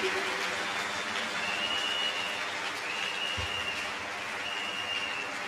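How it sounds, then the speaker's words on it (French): Steady broadband crowd applause at an evangelistic crusade in Douala, Cameroon, fills the whole stretch, dense and continuous, with a faint tonal line riding above it. "Acclamation, acclamation. A clap offering."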